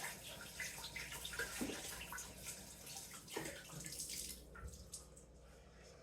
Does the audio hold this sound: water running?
yes